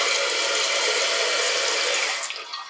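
Water runs steadily past the flapper valve inside a toilet tank, a continuous close hiss that eases slightly at the end.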